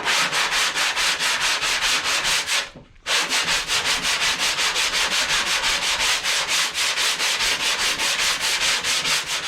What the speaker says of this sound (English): Take long strokes, but not into the stuff you don't want to get into. Let the sandpaper do the work.